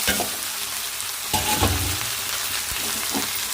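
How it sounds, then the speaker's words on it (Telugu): Okra frying in a pan with onions, tomatoes, green chilies and salt, a steady close sizzle broken by a few stirring scrapes, with no speech. "ఉల్లిపాయలు టమాటాలు పచ్చిమిర్చి ఒకసారి బెండకాయలు మొత్తం వేసుకొని సాల్ట్ వేసుకొని ఫ్రై చేసుకోండి"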